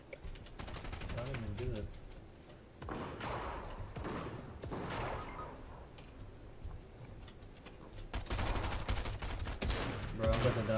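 Rapid automatic gunfire in a shooter video game, bursts of shots rattling in several volleys with gaps between, while players talk over it.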